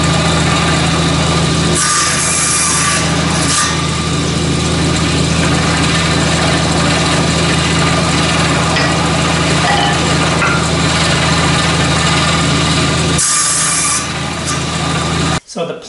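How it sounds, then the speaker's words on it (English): A table saw running continuously while cross-cutting wood, giving a loud steady motor whine with grinding blade-on-wood texture for most of the span and a brief dip as the cut ends. "I've removed it because I need to do some cross-cut"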